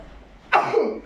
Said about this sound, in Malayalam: ഇവിടെ തുമ്മലും ചുമയും തിരിച്ചറിയാൻ പറ്റുന്നില്ല.